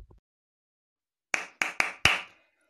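Four sharp hand claps ring out in a quick, slightly uneven burst after a moment of near silence, each one crisp and close.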